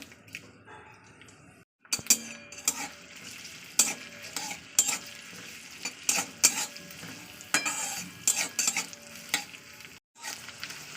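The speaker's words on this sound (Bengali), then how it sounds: "তেলটা একটু গরম হলে দিয়ে দেবো যে পেঁয়াজটা খুঁজে গেছে পেঁয়াজটাকে দিয়ে দিচ্ছি" Onions sizzle in mustard oil in a pan, and a utensil scrapes and clinks against the metal in repeated bursts of stirring, close and moderately loud with brief pauses.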